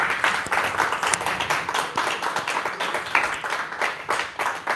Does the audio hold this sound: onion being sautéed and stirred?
no